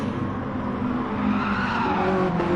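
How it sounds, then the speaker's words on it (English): Tyres squeal and skid as Mazda MX5 race cars battle through a corner, a sustained high screech over loud engine drone. "You hear the tyres squealing."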